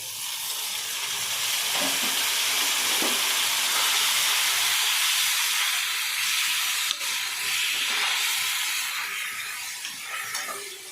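Tomatoes added to onions frying in a hot pan, giving a loud, steady hissing sizzle with occasional faint stirring clicks, close up and without voices.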